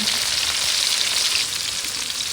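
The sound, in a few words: chopped onion added to frying potatoes, sizzling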